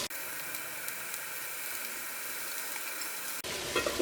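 Noodles dropped into sizzling chili sauce in a hot pan over a high flame, a steady hiss of frying that breaks off briefly before a short burst of louder spattering.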